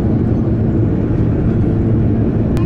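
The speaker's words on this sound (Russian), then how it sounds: "Самолет большой. Все, оторвались." Large airliner climbing just after takeoff from Moscow, heard from inside the cabin as a loud, steady low engine roar that holds constant throughout with no talking.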